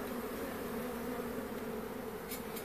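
Honeybees swarm around a hive in a steady, close buzzing drone, with a faint brief rustle near the end and no talking.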